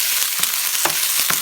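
Food stir-fries in a hot pan with leftover herbal cough syrup, a loud, constant sizzle broken by a few quick spatula scrapes and taps close up.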